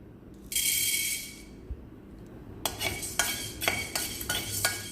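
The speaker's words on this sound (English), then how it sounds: "Now I am going to add about 1 tablespoon of peppercorns and roast them just for about a minute or 2." A tablespoon of peppercorns roasting in a pan for sambar powder, with a brief hissing rush followed by a series of sharp, close scraping and rattling strokes as they are stirred.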